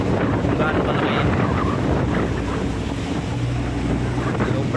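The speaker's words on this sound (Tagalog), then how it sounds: "Sobrang laki ng alon. Sobrang lakas." Huge waves and fierce wind batter a boat at sea during Super Typhoon Goring, a loud continuous roar of gusts buffeting the microphone over heavy crashing water, with no letup.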